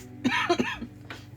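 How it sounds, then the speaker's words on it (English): A person coughs two or three times in quick succession, close and fairly loud, with a softer throat-clearing sound trailing after, against a quiet room background. "I'm coughing."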